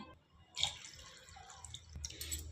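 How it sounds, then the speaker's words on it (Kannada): Water poured from a cup into a pot of mixed vegetable soup on the stove; a brief close splash and dribble lasting about two seconds, with no talk. "ಈ ಲೋಟದೊಳಗೆ ಎರಡು ಲೋಟ ನೀರು ಹಾಕ್ತೀನಿ"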